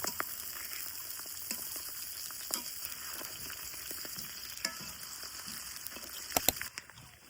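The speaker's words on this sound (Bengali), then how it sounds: "মাছগুলা ভালো করে উল্টাই পাল্টাই ভাজি নিব।" Pabda fish frying in oil in a pan: a steady sizzle and crackle throughout, with occasional sharper pops and spatters, loudest near the end.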